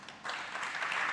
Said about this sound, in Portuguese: Dá um aplauso ao Senhor aí, vai.